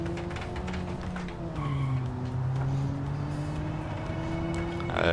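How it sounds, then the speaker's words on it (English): Sporty hot hatch in the racing game Automation revs in first gear with a steady, loud engine drone, its pitch sliding up and down, while tire squeal and skidding run through it. "let's pop it into first and rev a little more"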